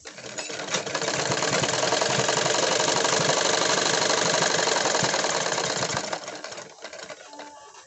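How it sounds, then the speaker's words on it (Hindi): A sewing machine runs a steady, fast stitching rattle along a woolen kurti seam, starting up and stopping near the end, fairly close and alone. "यहाँ पे हम सिलाई लगा देंगे।"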